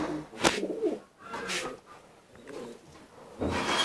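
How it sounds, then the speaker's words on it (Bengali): Teddy pigeons in a breeding loft give soft, intermittent coos with scuffling and rubbing sounds between them, fairly close and moderately quiet. "এটা আমার সর্বশেষ 10 নম্বর ব্রিডিং এ টেডি পেয়ার টেডি কবুতর"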